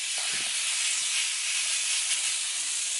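Steak meat laid on a hot griddle for Philly cheesesteak sizzles with a loud, continuous, bright hiss that stays steady throughout, with a few faint low knocks near the start.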